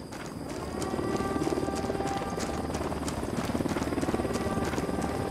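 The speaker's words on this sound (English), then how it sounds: "Helicopter inbound." Helicopter approaching in the video game Ghost Recon Wildlands, a continuous rapid rotor chop with engine whine that swells slightly and stays loud, over game ambience without speech.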